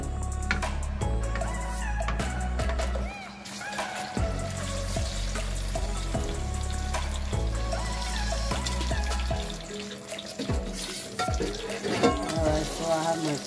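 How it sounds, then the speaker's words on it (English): Sliced plantains frying in oil in a pan, a continuous crackling sizzle with dense spattering pops, steady and close, with no talking. "here is my plantain frying beautifully."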